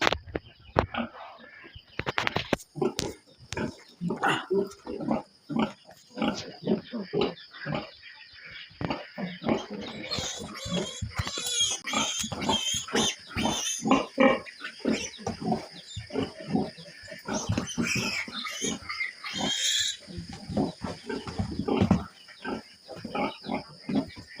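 A sow and her piglets grunting and snuffling in a steady, busy stream of short bursts, with a few higher squeals mixed in, close by and fairly loud.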